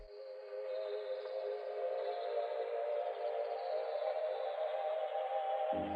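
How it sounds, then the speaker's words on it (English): Sustained synth pad chords hold steady with no low bass underneath, a smooth continuous wash of mid and upper tones fading in briefly at the start. "It's literally the same chords without bass notes, and it sounds like this."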